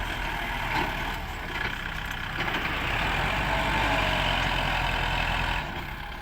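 A loaded dump truck tipping soil at a fill site, its diesel engine running heavily throughout. Deep, continuous rumble with a rising load partway through, close and steady, with no voices.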